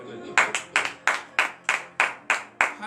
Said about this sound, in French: Donnez de vive acclamation éternelle.